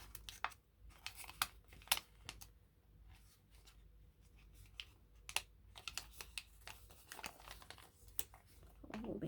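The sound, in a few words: folding origami paper finger trap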